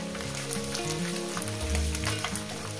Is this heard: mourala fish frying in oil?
yes